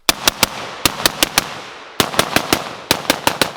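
Gunshots fired through a compact Dead Air Sandman-K battle suppressor ring out in sharp, loud reports, two rapid strings of about five to six each, with a short pause between the volleys and no talking.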